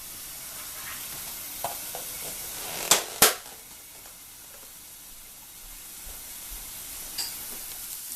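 Thinly sliced seasoned pork loin sears in a pan with a soft, steady sizzle, broken by a couple of sharp clicks near the middle.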